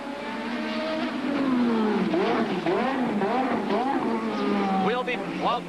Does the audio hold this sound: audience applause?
no